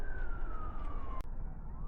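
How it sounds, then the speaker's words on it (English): An emergency vehicle siren wails continuously in a slowly falling tone, heavy low rumble of traffic underneath, with a brief click partway through. "those sirens are just wailing"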